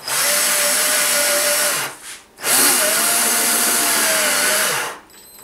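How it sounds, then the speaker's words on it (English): A power drill drives metal screws up through a can into PVC pipe: two loud, close whirring bursts with a brief pause between them, the motor pitch dipping under load. "I just screwed up through the can into the PVC pipes"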